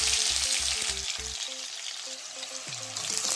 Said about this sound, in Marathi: आता कांदे जे आहेत थोडेसे लालसर आपल्याला परतून घ्यायचे तेलामध्ये फक्त